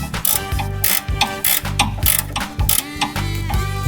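Rapid pawl clicks from a ratchet turning a rusted bolt on an abandoned junkyard Ford Bronco, loud and close, coming in repeated short back-and-forth strokes with brief gaps and no speech.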